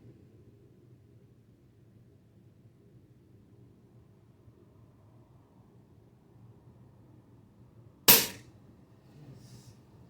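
A single sharp rifle shot from an ATG Uragan2 air rifle at a shooting range while zeroing, one loud crack over a low steady outdoor rumble, followed by quiet.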